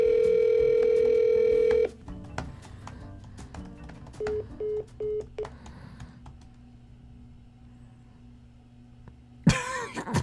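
A steady phone-line dial tone sounds loudly after a disconnected call on an unlocked OnePlus 8 Pro on Verizon, then cuts off, followed by a few short beeps, faint clicks and low background hum.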